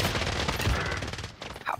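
Gunfire in Call of Duty: Warzone comes as rapid, loud bursts of overlapping shots that fade toward the end, with a couple of sharp reports trailing after.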